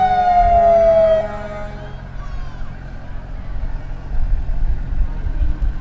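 Ambulance siren in a Village of Mamaroneck firemen's parade, one strong falling wail at the start that fades into crowd and engine rumble, with distant siren tones lingering faintly underneath.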